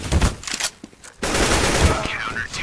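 Rapid AK rifle fire in Counter-Strike, a close dense burst of shots in two stretches with a short gap between.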